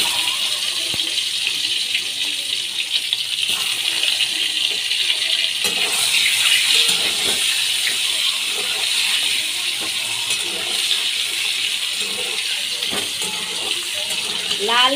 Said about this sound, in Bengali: ডিমগুলো আমি ভেজে নিচ্ছি।